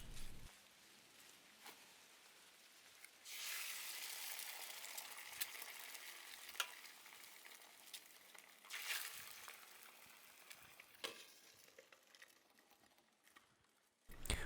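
Eggs frying in a hot, sun-heated pan give off a steady broadband sizzle that swells loudly from about three seconds onward. Small pops and crackles sound over it, and the sizzle fades near the end.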